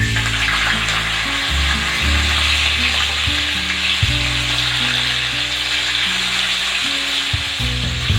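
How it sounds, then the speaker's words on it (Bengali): A fish head fries in oil previously used for frying potatoes: a continuous loud sizzle and crackle up close, with occasional utensil knocks and stirring, and no talking. "আলু ভাজা তেলের মধ্যে আমি মাছের মুড়োটাকে ভেজে নেব"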